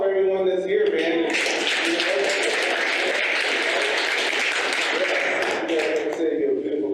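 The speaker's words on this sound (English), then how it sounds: "let's give a round of applause for everyone that's here" Crowd applause at an evening community reentry event, a dense continuous wash of clapping that holds steady at full level for several seconds before easing slightly near the end.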